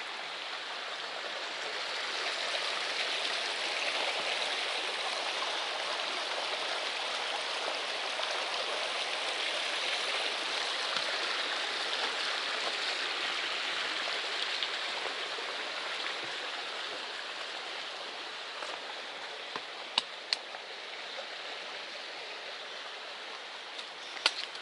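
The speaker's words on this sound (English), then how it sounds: "A nice little footbridge stream." A small woodland stream runs beneath a footbridge on the Appalachian Trail, giving a steady, even rush of water throughout with a few faint clicks near the end.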